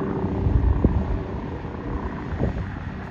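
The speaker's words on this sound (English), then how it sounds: "Helicopter's headed right towards me." Helicopter passing overhead near a lakeside boat launch, a steady low mechanical drone with faint rotor pulsing that holds moderately loud throughout, with brief louder thumps midway.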